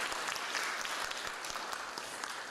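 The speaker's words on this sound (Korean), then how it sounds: "우리 찬양팀들에게 박수 한번 해줘요." Church congregation applauding the worship team at an anniversary service in Vancouver, a dense, steady wash of many hands clapping throughout, fairly even in level with faint voices mixed in.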